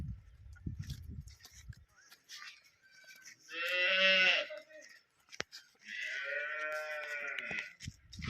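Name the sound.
cow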